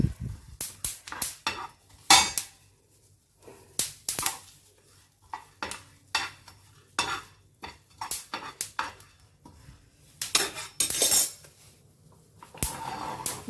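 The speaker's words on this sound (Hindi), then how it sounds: "ये मैंने नीचे से गैस बंद कर दी है और इनको हिला रही हूँ।" Dry-roasted mango pickle ingredients being stirred in a pan with the gas off, heard as irregular metallic scrapes and clinks of a spoon against the pan with a faint sizzle beneath, close and alone, with no talk.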